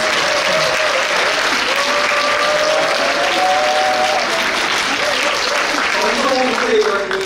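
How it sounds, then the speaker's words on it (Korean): Loud, continuous applause from a congregation at a 2023 March First Independence Movement Day joint worship service, welcoming the city mayor; dense clapping with voices murmuring and calling out underneath. "큰 박수로 시장님"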